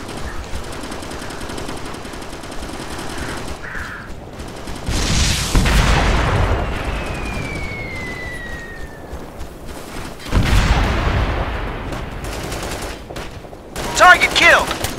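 Automatic gunfire rattles through a firefight in Operation Flashpoint: Red River, with sustained bursts and a heavy impact midway, another loud volley later and sharp shots at the end, partly under radio chatter.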